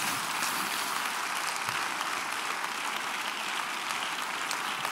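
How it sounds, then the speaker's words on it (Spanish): A church congregation at a Sunday school service claps loudly for Jesus Christ, a dense, continuous wash of many hands that stays even and strong throughout. "Dale un aplauso fuerte al Señor Jesucristo."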